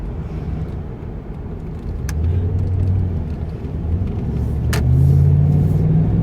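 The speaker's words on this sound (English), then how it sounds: "now I've got a car behind me" A car rolls along the road close behind another vehicle as a steady low rumble, growing slightly louder near the end, with no talk.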